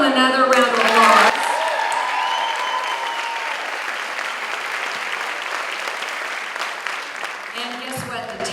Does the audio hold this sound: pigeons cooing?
no